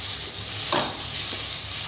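Chhana, fresh cow's-milk cottage cheese, cooks in a kadai over low heat for kachagolla, giving a continuous close hiss of frying with a single soft scrape of stirring partway through.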